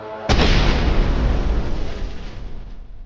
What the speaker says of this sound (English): A kamikaze drone attacks the APC.